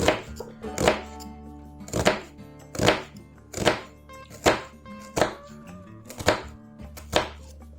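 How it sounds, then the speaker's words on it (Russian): An Opinel No. 9 carbon steel knife cuts through an onion on a board, giving about ten crisp, evenly spaced chopping thunks at close range with no talking. "Ну, луковицу, конечно, грызет за милую душу."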